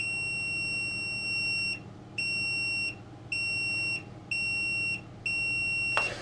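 A Hioki DT4256 multimeter gives its beep alert: five steady, high-pitched tones in an even on-off rhythm, each about a second long, heard close over a low room hum.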